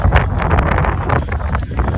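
Strong wind buffets the microphone on a sandy beach at sunset, a loud, continuous low rumble with gusty surges and no speech over it.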